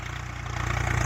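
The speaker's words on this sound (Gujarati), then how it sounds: "આ ટ્રેક્ટર છે અમારું અને ખેડવાનું કામ ચાલુ છે અત્યારે।" A tractor engine runs while ploughing a field, a low, steady, pulsing drone with a regular throb, close and continuous throughout.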